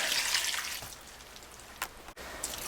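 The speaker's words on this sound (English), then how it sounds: "Now we're going to add about 3, maybe 4 quarts of water." Water from a quart measure pours into a cooking pot for potato-leek soup, a soft, steady splashing stream that fades over a couple of seconds, followed by a few small clinks and drips.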